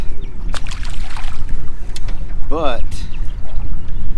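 Steady wind rushes and buffets the microphone on a lake while fishing for crappie and bass from a boat, loud and continuous, with a brief voice over it.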